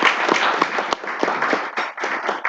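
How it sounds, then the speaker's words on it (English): An audience at a breakfast event claps in a steady, moderately loud round of applause with uneven bursts of hands. "Let's give them a round of applause."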